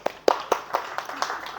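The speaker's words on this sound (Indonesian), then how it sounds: "Tepuk tangan dulu buat Amin." A class in a teacher-training art session claps in a sparse, uneven run of separate hand claps that grows softer, with a faint voice underneath.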